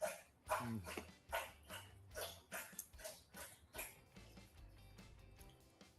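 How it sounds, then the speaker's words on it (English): A dog laps water noisily in quick repeated slurps, close by and fairly loud, with a steady rhythm of wet tongue strokes. "It's a loud drinking of water."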